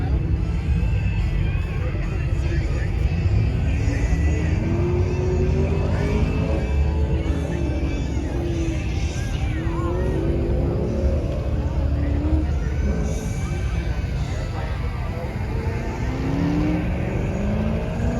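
A muscle car's engine idles at the Strip with a constant deep, loud rumble that holds steady throughout, while voices talk nearby over it.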